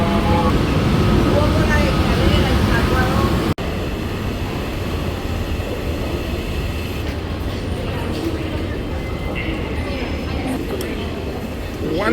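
A New York subway train at the 42nd Street stop near Times Square rumbles and rattles loudly and continuously. A sharp clunk about a third of the way through is followed by steady rolling rail noise.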